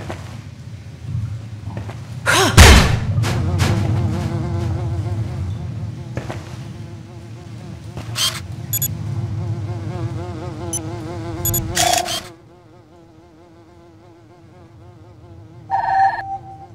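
Flies buzzing in Beyond Good & Evil: a steady insect drone with wavering pitch runs through most of the stretch, broken by a few sharp clicks and a brief louder burst, then drops away and returns faintly at the end.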